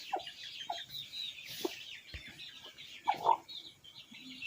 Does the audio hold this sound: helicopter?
no